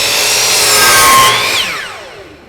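A power saw bites into a wood board, a loud close whirring cut that rises briefly, then winds down in pitch as the blade spins to a stop.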